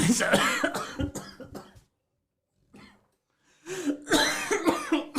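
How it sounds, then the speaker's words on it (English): Several harsh coughs come close and loud in bursts after a bout of hard laughter, with a silent pause and then more coughing and throat clearing mixed with voices. "You're really laughing that hard that you caught yourself coughing."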